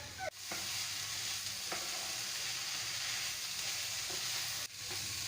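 Vegetable cheese paratha stuffing cooking in a pan over a high gas flame gives a steady, dense sizzle with a few brief clinks and scrapes, and no voices are heard.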